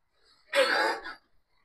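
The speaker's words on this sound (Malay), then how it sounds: "Kita terbatuk lah pula." A single short cough, a harsh throaty burst close to the microphone, in an otherwise quiet kitchen while duck is being cooked.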